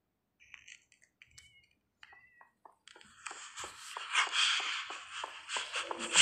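A music disc playing in the Minecraft video game: sparse scuffs and footstep-like clicks at first, then a rushing, rustling run that thickens and grows louder toward the end, with no talking.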